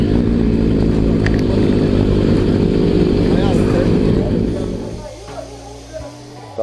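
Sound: motorcycles at a motorcycle shop

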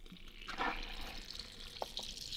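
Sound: water being poured onto a punctured car tyre

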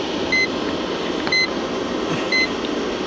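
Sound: beeping of a kilowatt meter for grid tie inverters

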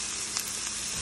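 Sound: curry leaves sizzling in hot oil with mustard seeds

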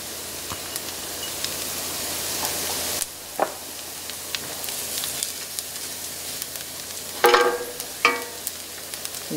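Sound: minced garlic sizzling in oil for mushroom risotto

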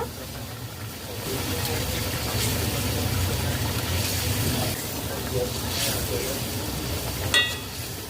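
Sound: curry gravy boiling in pan as eggs are added

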